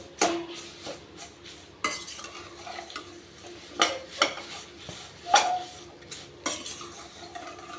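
Moringa leaves being roasted and stirred in a pan, with a utensil scraping and clinking against the metal at irregular intervals over a soft, steady sizzle.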